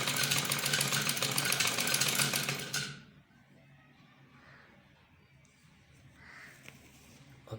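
An electric sewing machine stitches the shoulder panel of a kameez with a fast, loud, steady mechanical whir for about three seconds, then stops, leaving quiet handling noise.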